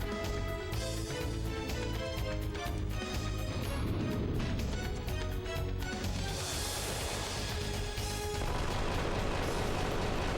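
A Gatling gun attack in the video game Wild Arms 3 rattles out a rapid stream of gunfire layered over the game's music, steady and loud throughout with no talking.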